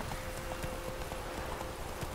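Horse hooves clip-clop in a steady rhythm in a video game, moderately loud over a faint background hum.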